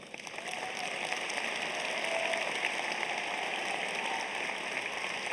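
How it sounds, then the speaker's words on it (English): A commencement audience applauds the graduating class of 2025 at a business school ceremony, a dense, even roar of clapping from a large crowd heard at a distance. "I hope the audience will give the class of 25 a big round of applause."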